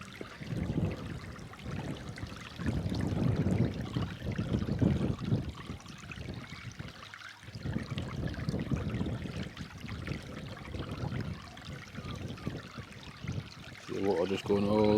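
Seawater flows around rocks and runs back out to the sea near Scotland's second-oldest lighthouse at Southerness, a continuous rushing wash that rises and falls in low surges throughout.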